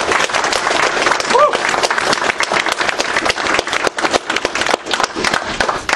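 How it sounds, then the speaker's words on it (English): A crowd applauds steadily with dense clapping throughout, loud and close, with a few cheers mixed in. "give these guys a round of applause."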